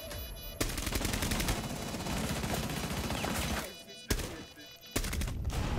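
Suppressed rifle fire crackles in Rainbow Six Siege as rapid, dense bursts of shots run almost continuously with short pauses, close and loud, with a faint voice underneath.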